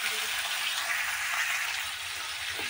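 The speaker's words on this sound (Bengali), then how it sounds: "এবার দিয়ে দিচ্ছি এই যে চিংড়ি মাছ। এখান থেকে একটু ভেজে নেবো প্রথমে।" Prawns frying in hot oil with spices, a dense, steady sizzling hiss close by that runs without a break, no voices.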